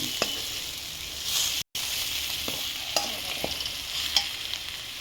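Spice powder fries in plenty of oil for Haagalakaayi gojju, a constant close sizzle under a few light scrapes and taps of a spoon against the pan, with one brief dropout partway through.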